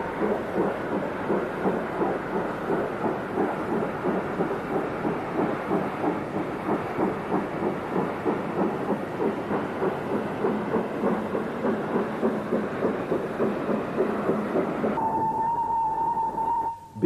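Steam locomotive Pendennis Castle at Oxford chuffs in a steady rapid rhythmic beat, loud and continuous, and a whistle sounds near the end.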